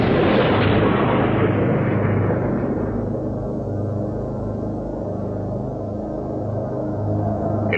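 A gigantic explosion evoking the Big Bang that gave birth to the cosmos: a loud, deep blast that rolls out and settles into a long, low rumbling decay, with no voices.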